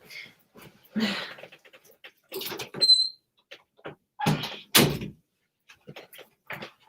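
A dog shut behind a closed door makes short muffled bursts, whines and scratches that come in scattered clusters across the clip, with brief quiet gaps between them, heard at a modest distance.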